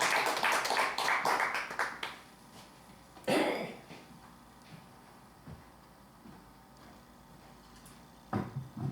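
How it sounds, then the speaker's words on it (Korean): Scattered clapping in a church prayer meeting hall as a guest preacher is welcomed, a brief loud burst of hands that quickly fades, followed by quiet room noise, a cough-like sound and a few light taps. "나오실 때 큰 박수로 환영하겠습니다."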